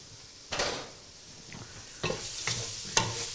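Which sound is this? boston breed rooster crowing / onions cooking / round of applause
onions cooking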